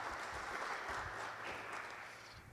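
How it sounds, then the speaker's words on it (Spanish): Steady applause from a lecture audience at a course session on constitutional history, a dense even clapping that fills the room throughout and tapers slightly at the end, with no voices over it. "Muchas gracias por el aplauso."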